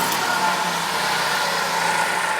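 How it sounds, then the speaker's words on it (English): A Ford Focus engine idles steadily with a smooth, even hum, close by and unchanging throughout, warming up to temperature. "start the engine, run it up to temperature"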